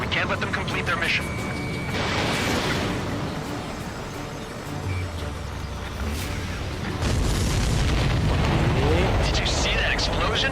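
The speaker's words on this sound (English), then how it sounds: "Did you see that explosion?" In the Ace Combat 7 video game, a supply ship blows up with heavy booming blasts and a rumbling crash amid jet and combat noise, with a voice talking over the action.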